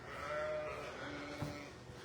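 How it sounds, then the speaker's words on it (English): Distant flock of sheep with lambs calling on farmland by old hawthorn trees, soft continuous bleating with one brief sharper call near the end, no voices. "sheep and his lambs over there."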